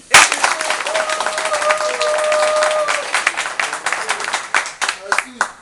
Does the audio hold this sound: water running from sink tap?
no